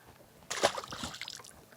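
A released fish splashes back into lake water beside a drifting fishing boat: a short, close slosh and splatter, followed by softer trickling and dripping.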